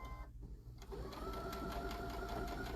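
A sewing machine stitches fabric in a steady, fast, continuous whir with a faint rhythmic ticking, starting after a brief clatter and running alone near the microphone.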